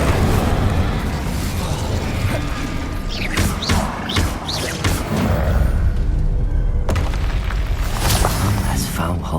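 An Incendium fire spell erupts in Hogwarts Legacy with a loud, roaring blast of flame and booming crackle over a constant rumble of battle. Speech is heard alongside it.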